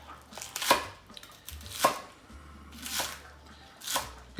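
A knife cuts green onions on the bias on a board, four separate crisp chops spaced about a second apart, close and fairly quiet, with no talking.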